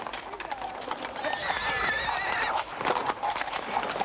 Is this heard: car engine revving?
no